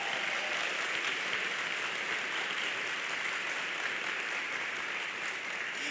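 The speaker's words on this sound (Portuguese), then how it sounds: "você está aplaudindo" A church congregation applauds during a sermon with a continuous, even wash of clapping, loud and sustained throughout, with no speech over it.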